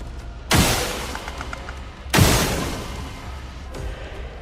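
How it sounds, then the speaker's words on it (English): Gunfire in the fantasy role-playing video game Clair Obscur: Expedition 33: two loud broadband blasts about a second and a half apart, each fading into a noisy tail, then a fainter third burst near the end. "We just have to go through gunshots."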